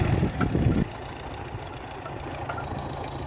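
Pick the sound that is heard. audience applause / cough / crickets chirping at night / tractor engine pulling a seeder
tractor engine pulling a seeder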